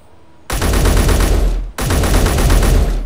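Two long bursts of fully automatic fire from the MR50A rifle in Space Engineers, loud and close, with rapid rattling shots separated by a brief pause.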